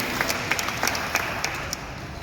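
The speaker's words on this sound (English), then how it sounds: "Can we give a round of applause to a cappella group and all the performers this evening?" An audience at a Tourism Promotions Board evening event applauds an a cappella group and the other performers, a steady, fairly close burst of many hands clapping with no voices over it.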